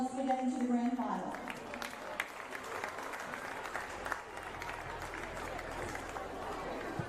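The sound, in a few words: crowd applauding both football teams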